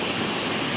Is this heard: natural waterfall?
yes